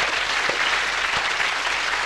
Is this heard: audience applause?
yes